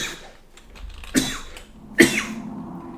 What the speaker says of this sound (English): That is a bad time for a coughing fit.